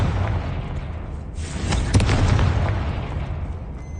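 Confringo fire spell blasts in Hogwarts Legacy, heard as a deep booming explosion with a sharp crack near the two-second mark, rumbling on loudly over continuous low game noise.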